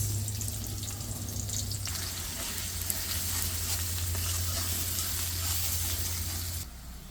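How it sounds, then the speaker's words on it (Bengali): Chopped onion hitting hot oil in a pan, frying with a steady loud sizzle and stirring, close and continuous with a low hum underneath. "তেলটা গরম হয়ে গেছে এখন দিব কুচেন নিয়ে পেঁয়াজ"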